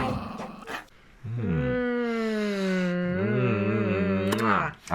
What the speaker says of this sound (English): With special guest star, Lily the Barking Bean.